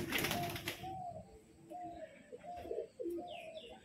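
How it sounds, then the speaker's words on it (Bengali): Male Kalshira pigeon cooing close by, a short run of soft, low, wavering coos in quick succession, alone and fairly quiet. "এটা একটা নর পায়রা"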